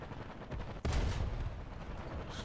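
A single tank cannon shot in the War Thunder video game booms out once over a steady, low rumbling background, fairly faint overall.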